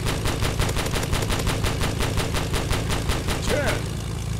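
Rapid machine gun fire from a biplane in a Roblox game, a steady even stream of shots rattling loud and close for the whole stretch, with a brief whistling tone near the end.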